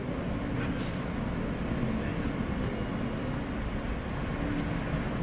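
Steady low rumble and rattle of a New York subway train in motion, heard from inside the car, a continuous even roar with faint high squeals on top and no speech.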